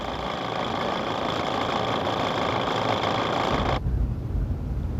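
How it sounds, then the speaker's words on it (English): A portable electric tire pump plugged into a Jeep's cigarette lighter runs with a loud, steady buzzing motor drone throughout, its brighter whine dropping away near the end while the low hum carries on. "Use that portable electric tire pump"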